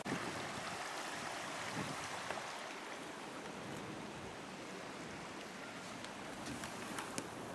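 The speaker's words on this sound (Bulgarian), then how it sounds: "Ето е реката." A mountain river flows steadily nearby while hiking toward a peak, a continuous broadband rush of water with no breaks and no voices.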